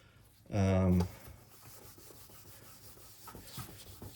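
An oxidation remover wipe rubbed across an old Toyota's car headlight, one short loud scrubbing stroke followed by faint quieter rubbing.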